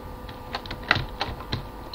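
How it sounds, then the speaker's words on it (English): Sparse, soft clicks of computer keyboard typing, a handful of separate keystrokes spaced irregularly over a steady low background hum, fairly close but quiet. "If you guys hear that beep beep, that's my keyboard."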